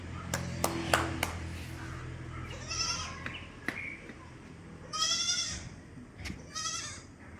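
A 12-day-old crossbreed goat kid bleats three times, with short wavering cries spaced a couple of seconds apart. Sharp knocks and clicks sound early on against quiet surroundings, and no one speaks.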